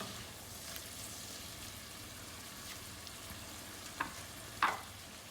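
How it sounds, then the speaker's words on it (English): Shrimp stirred with chilli and garlic in a frying pan, a soft continuous sizzle under a quiet background, with a couple of brief utensil clinks near the end. "Give it a little bit of mix so that the shrimp would absorb all these ingredients."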